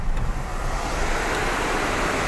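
A rain-swollen mountain stream gushes through an upper market area in Uttarakhand during the monsoon, a loud, steady, broad rushing of water that continues unbroken and close by, with no talking.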